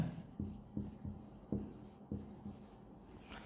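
A pen writes accounting entries on paper, giving soft close scratching strokes in short bursts with small gaps, fairly quiet and without talk.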